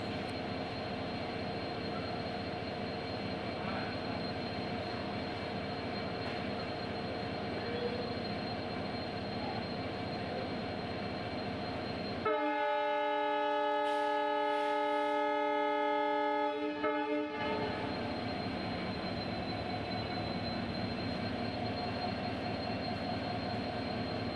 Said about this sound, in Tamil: ட்ரெயின் கிளம்ப ரெடி ஆயிடுச்சு.